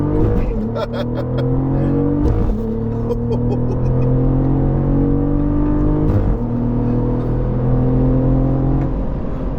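Cadillac CT4-V Blackwing accelerating hard from inside the cabin, engine note climbing steeply and snapping down at each fast gear shift, repeated several times in quick succession, loud and close with people talking over it.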